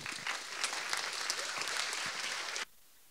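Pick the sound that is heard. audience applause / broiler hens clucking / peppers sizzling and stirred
audience applause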